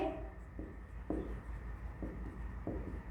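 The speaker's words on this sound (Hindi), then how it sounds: "तो यहां पर लिखेंगे" Chalk or marker writing on a board during a chemistry lesson, producing faint, short scratchy strokes in an irregular rhythm over a low room hum, with no talking.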